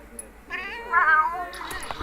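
A distressed cat gives a single drawn-out, wavering meow that rises and falls, close and fairly loud, with a brief rustle at the end.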